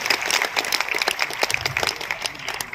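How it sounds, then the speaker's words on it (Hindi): Applause at a state teachers' award ceremony, with scattered, uneven clapping from a crowd heard at moderate distance for a few seconds. "तालियां जोरदार इनके लिए होनी चाहिए"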